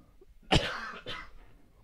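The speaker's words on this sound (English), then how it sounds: "We both coughed." Two people cough one after the other in a quiet podcast room: a sharp, loud first cough, then a second, slightly softer one about half a second later, both close to the microphone.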